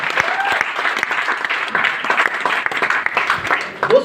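An audience at a motivational wellness talk breaks into loud, sustained applause for invited guests, with dense clapping filling the room throughout and a brief voice near the end.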